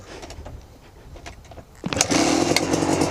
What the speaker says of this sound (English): Second kick, no throttle. It idles good now.